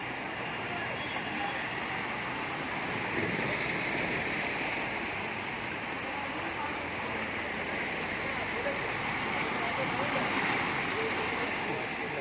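Floodwater rushing steadily along a submerged Kolkata street, a continuous broadband wash like a stream or small waterfall, loud and close throughout.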